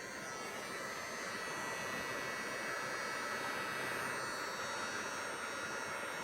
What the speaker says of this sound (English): just move the heat gun back and forth over the top of that thing